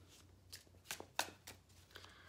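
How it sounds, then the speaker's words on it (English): Tarot cards riffled and shuffled in several quick bursts, close and crisp, with short pauses between, over faint low hum. "I don't usually shuffle extensively"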